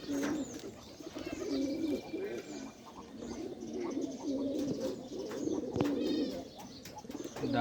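Pigeons cooing near a mango tree, repeated low throaty coos close by with occasional chirps from other birds in the background.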